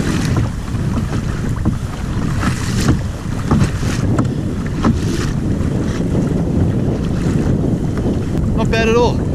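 A pedal drive kayak rides ferry swells in gusty wind, with loud buffeting microphone wind, water sloshing and slapping against the hull, and a brief squeaky creak near the end.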